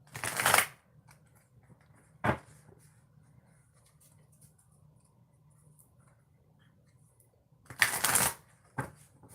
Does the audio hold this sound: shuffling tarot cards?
yes